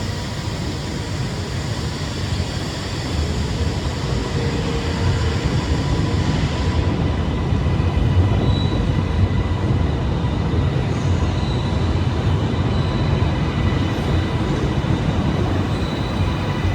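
A Class 380 train rolls into Glasgow Central station with a steady rumble and hiss of wheels on rail, holding at moderate loudness with a faint tonal whine throughout.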